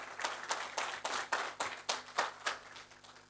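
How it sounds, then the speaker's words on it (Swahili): Audience applause at a speech event marking a company's 50th anniversary, a short burst of rhythmic group clapping that swells and fades over a few seconds, fairly close with no talk. "Pigeni makofi mengi."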